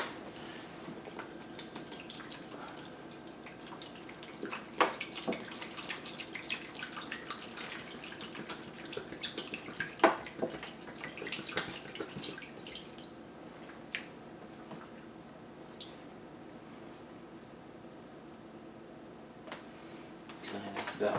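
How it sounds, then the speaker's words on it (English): Spring water pours into a 5-gallon container while making muscadine wine, a soft, steady trickle and splash that stays fairly quiet, with a few brief clinks and little or no talk. "go ahead and add some more of the spring water to make it"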